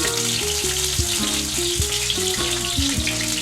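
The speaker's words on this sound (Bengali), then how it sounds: "কিছুক্ষণ ভেজে নেব।" Snake gourd fritters (bora) frying in a pan of oil give off a steady, close sizzling hiss, with tonal background music playing throughout.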